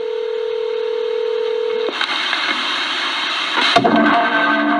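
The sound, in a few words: telephone dialing tones while calling a voicemail box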